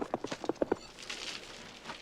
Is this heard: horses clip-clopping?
yes